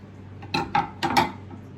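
A knife slicing through a firm heirloom beefsteak-type tomato, heard as four short, close clicks and scrapes against the blade and board in a quiet room.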